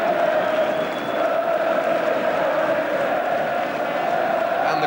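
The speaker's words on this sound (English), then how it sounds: "Crowd inside Kenilworth Road" A football crowd inside Kenilworth Road, Luton, during the League Cup semi-final second leg against Oxford United, keeps up a steady, even roar that fills the whole stretch without breaks.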